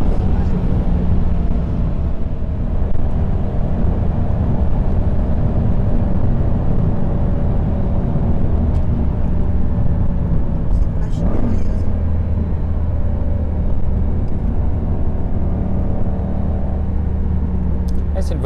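A Lamborghini Gallardo accelerates gently at legal speed, its engine a steady low rumble heard from inside the cabin under continuous speech, rising slightly in pitch partway through.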